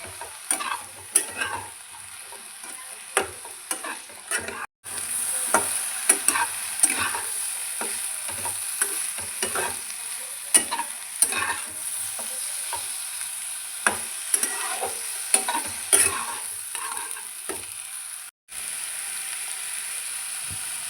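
Potatoes and eggplant coated in turmeric are stirred in a pan: repeated scraping and clacking strokes of the spatula over a steady sizzle of hot oil, with two brief pauses.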